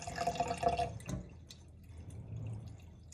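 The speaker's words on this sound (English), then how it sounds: "I start slowly pouring the hot water on my crack" Hot water poured slowly over a scored glass bottle in a sink, a thin trickling stream with soft drips and splashes, close by and fading to a quieter wash of water.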